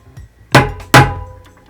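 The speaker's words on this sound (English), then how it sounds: "Grab your hammer, you're going to tap it in." A hammer taps a bearing into a DT Swiss front bicycle hub, two sharp metallic knocks about half a second apart, close and loud, with faint lighter taps around them.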